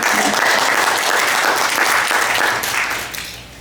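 An audience at a Greek Canadian archive history event breaks into steady, full applause that holds loud for several seconds before starting to thin out at the end.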